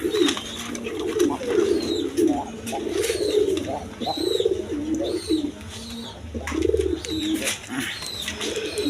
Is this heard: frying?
no